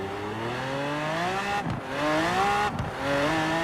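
A Chevrolet Chevelle Super Sport engine in Forza Horizon 4 climbs under full throttle, its rising tone cut by two brief gear-shift dips before it pulls hard again. The engine is loud and steady and carries on without any talking.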